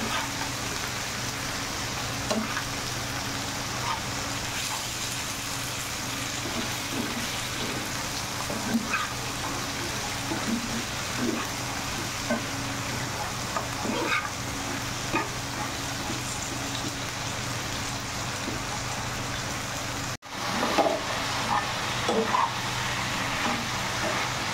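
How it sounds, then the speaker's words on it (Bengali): Chicken pieces seasoned with a little turmeric and salt frying in a pan for mug dal mangsho, a steady, rain-like hiss and crackle at moderate level throughout, over a low background hum. "এখন চিকেনগুলোকে ফ্রাই করে দেবো ভালো করে"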